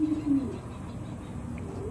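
Blue racing pigeon giving a soft, low coo near the start, a short murmuring call close by, then quiet room noise.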